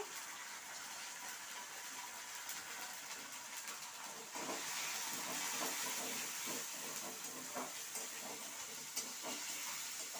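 A spice paste with turmeric fries in a pan for a flat-bean and shrimp chorchori, giving off a steady hissing sizzle throughout that grows slightly louder and fuller partway through.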